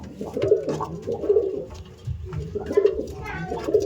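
Andhra pigeons with tricolour eyes, including a newly paired couple, coo in repeated throaty rolling bursts close by, several calls in a loose rhythm with a person talking quietly beneath.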